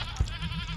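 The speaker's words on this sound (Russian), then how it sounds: "Мы должны проследить, сколько бякнет коза." A goat in the game Sally Face gives a short, close, nasal bleat, a single wavering cry lasting under a second.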